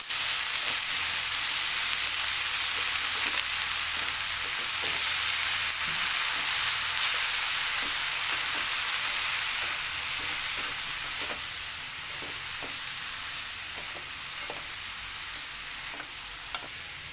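Ponnanganni greens, washed with turmeric and salt, stir-fried for poriyal: a loud continuous sizzle and hiss throughout, with soft stirring clicks and scrapes, no talking.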